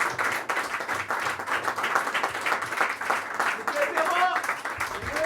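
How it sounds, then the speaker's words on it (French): Audience applause at a slam poetry tournament in Antibes, a steady wash of clapping that fills the whole stretch at even loudness, with voices and a brief tonal sound rising near the end. "On l'applaudit jusqu'à son retour sur le siège."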